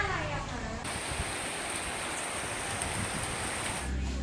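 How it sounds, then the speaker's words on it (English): Rain pours outdoors in northern Thailand as a dense, even hiss of falling water, steady and fairly close, with a faint tonal sound at the very start. "today has been a rainy day"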